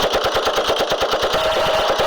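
Rapid bursts of automatic gunfire, a fast steady rattle of shots close and loud, continuing without pause.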